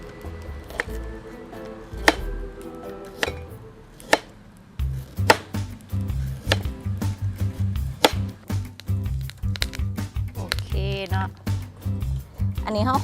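A knife chops food on a board in quick repeated strikes, speeding into a steady rhythm, with a person talking over the chopping.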